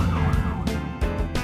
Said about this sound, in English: Ambulance to the rescue!